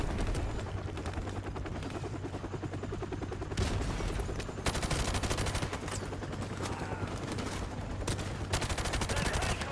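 Rapid gunfire from the video game Call of Duty Modern Warfare Remastered, dense bursts of automatic shots running continuously and loudly throughout, with heavier blasts near the middle and no clear talk.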